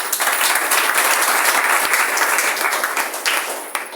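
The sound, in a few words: loud audience applause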